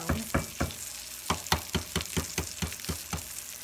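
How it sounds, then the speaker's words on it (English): An egg frying in butter in a pan, a steady close sizzle broken by a series of sharp, regular clicks and taps, with no voices. "Let's do a fried egg right here. It's already got enough butter"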